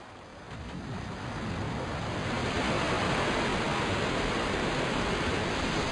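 Water rushes in a steady, loud, broadband roar, swelling during the first seconds then holding, as a lever is pulled to let water flow in or out in the video game Resident Evil 2.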